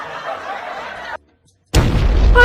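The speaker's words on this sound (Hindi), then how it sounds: "अब चलो पटाखा बन गया है, इसका ट्रायल लेते हैं।" A tonal buzzing sound cuts off into silence, then a firecracker explodes in a sudden loud bang with a sustained rumbling blast and crackle to the end.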